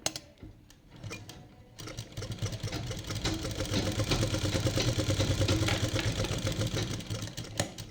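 A sewing machine stitches a dot stitch for tailoring, a steady mechanical whirring and rattling that starts after a quiet moment and runs continuously, fairly close.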